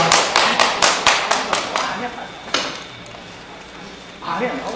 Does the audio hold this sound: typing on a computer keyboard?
no